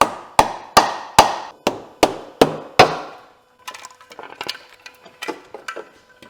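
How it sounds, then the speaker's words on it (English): Soft rubber mallet tapping the valve cover of a BMW K1600 motorcycle engine to break it loose, seven sharp close knocks at a steady pace, then a quieter cluster of lighter taps and rattles. "just use a soft rubber mallet and just give it a slight tap and you'll hear it kind of break loose"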